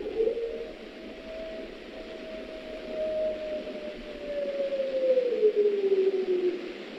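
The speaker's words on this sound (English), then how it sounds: "you can hear the chirping of bats, the baying of wolves, and other creepy sounds" Wolves bay in the 1931 Dracula film soundtrack, a single long, wavering howl that glides slowly downward over several seconds above a faint, hissy background.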